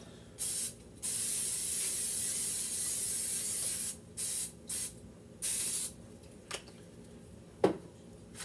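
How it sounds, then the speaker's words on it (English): Several short bursts of cooking spray hiss close by onto a pan, one long and others brief, separated by quiet pauses and a couple of soft clicks. "So give it a little spray."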